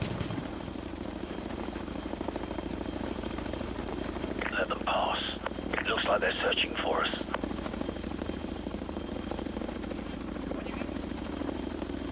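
In Call of Duty: Modern Warfare 2 Campaign Remastered, a helicopter's rotor thumps and engine drone fill the scene, steady and fairly loud, with a burst of gunfire-like crackle partway through and voices underneath.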